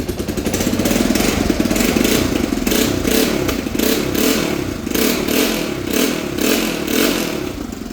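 A flip quad ATV engine catches and runs, revving up loudly and then settling into a rough, pulsing idle with clattery mechanical noise, close and continuous, no talk.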